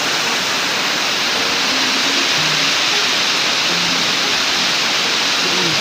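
Aruyan Falls at the penal farm in Sablayan, Occidental Mindoro, pours with a constant, loud, dense roar of falling water that fills the whole scene without a break.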